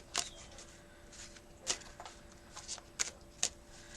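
A Rider-Waite tarot deck is shuffled in a quiet room, with four or five crisp riffling bursts spaced apart over a faint steady background hum.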